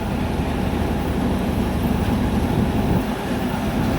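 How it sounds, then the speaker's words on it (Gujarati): A train arriving at Porbandar gives a loud, steady rolling rumble of wheels and carriages throughout, easing briefly near the end. "આ આપણે પોરબંદર આવે છે ટ્રેન"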